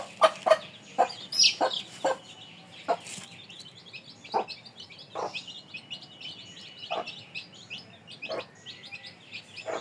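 Several chickens cluck near a dark backyard coop where chicks are let out to roam. Short, irregular calls sound close, with bursts repeating across the whole stretch, some sharper chirps mixed in, and no one speaking.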